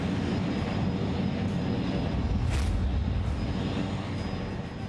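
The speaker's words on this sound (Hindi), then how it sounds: "भारत की थल सेना और वायु सेना इन हेलीकॉप्टरों का इस्तेमाल कर रही है" An Indian Army and Air Force Advanced Light Helicopter flies overhead in winter in Ladakh, with a loud, steady engine and rotor roar that swells briefly midway and then eases slightly.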